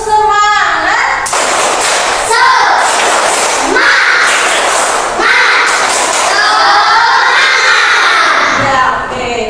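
Indonesian schoolchildren doing a teacher-led 'tepuk semangat' rhythmic clapping chant in a classroom, loud bursts of many voices shouting together with sharp group claps in sets, close and energetic.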